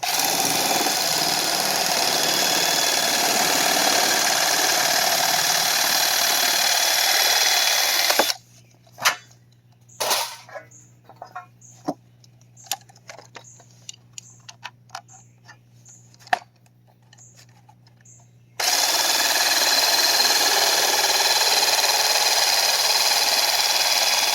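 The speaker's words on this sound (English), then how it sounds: "those nibblers, they just walk right through the metal pretty well" A handheld nibbler chews through sheet metal for a DIY driftwood sailboat, making a loud, steady buzzing grind in two long bursts separated by a quiet stretch with scattered clicks and taps.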